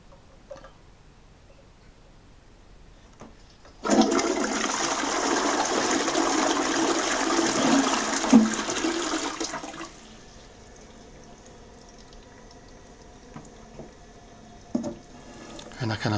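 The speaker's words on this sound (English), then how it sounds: "And here's the full flush." Fluidmaster dual flush valve toilet giving a full flush: a loud rushing surge of water starts abruptly, holds for about six seconds, then cuts off, leaving the quieter trickle and hiss of the tank refilling.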